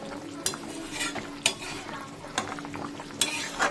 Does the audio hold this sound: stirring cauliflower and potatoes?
yes